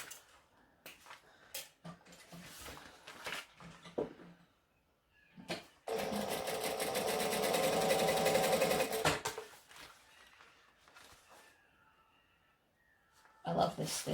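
A sewing machine top-stitches a split-open seam an eighth of an inch from the edge, one sustained run of close, rapid stitching lasting a few seconds, with a person talking and handling fabric before and after it.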